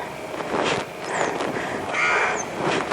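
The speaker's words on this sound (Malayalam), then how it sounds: "പല കിളികളുടെ ഒച്ചയൊക്കെ കേൾക്കാം." Crows caw outdoors on a hillside near a house along with other bird calls, a few harsh calls rising over a rustling, breezy background, moderately close and with no talk.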